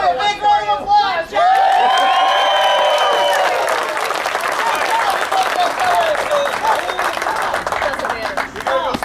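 A crowd at a birthday party gathering breaks into loud, sustained applause with cheering and whistles, dense clapping filling the space with chatter mixed in throughout.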